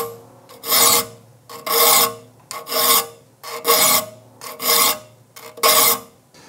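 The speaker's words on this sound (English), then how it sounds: "just allow the file to do the work" A hand file rasps across the teeth of a rip saw in seven evenly spaced, loud strokes, each a harsh scraping push followed by a brief quiet return, heard up close and alone.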